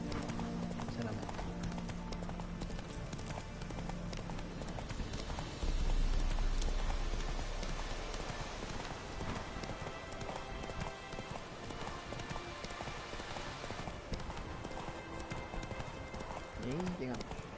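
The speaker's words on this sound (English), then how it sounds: "Creo que es más rápido a caballo desde aquí, sinceramente." Horse hooves galloping in The Witcher 3 video game, a steady rapid clip-clop of hoofbeats under game sounds, with a person talking over them.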